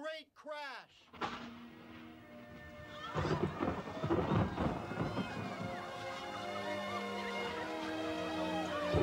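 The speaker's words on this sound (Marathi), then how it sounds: "मग जोराचा पाऊस आला आणि पूर आला. जोराचा वारा सुटला." A thunderstorm with heavy rain and strong wind: a sharp crack opens, then a rolling, rumbling roar of downpour and gusts builds and holds steady, fairly faint and distant.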